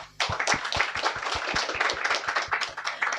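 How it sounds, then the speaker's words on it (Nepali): Guests at an engagement ceremony break into clapping after a brief quiet moment, a brisk, steady group rhythm of many hands that stays full and close until the end. "अनि योभन्दा पनि ठुलो ताली चाहिँ हाम्रो परम प्रभुको लागि"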